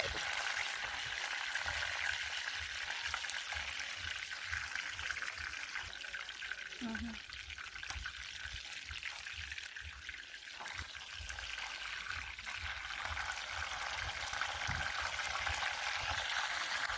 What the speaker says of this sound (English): let's separate them and see how they fry on one side